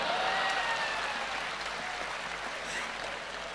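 Audience applause at a Hindi comic poetry show: dense, steady clapping from a large crowd, holding fairly loud throughout and easing slightly toward the end.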